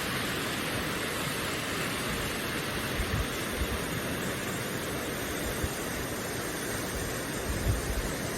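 Svartifoss waterfall in Iceland, a constant broadband roar of falling water, steady and enveloping with no distinct events and no voices.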